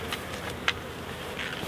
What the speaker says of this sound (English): I've got to just brush these bees off here now.